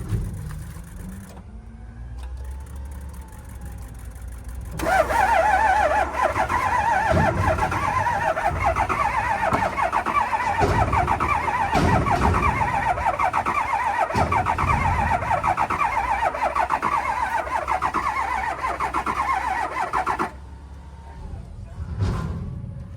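A diesel engine in a vehicle turns over and catches after a quiet start. It then runs with a rough, uneven lope and a rapid ticking clatter from the injectors, holding steady for about fifteen seconds before shutting off.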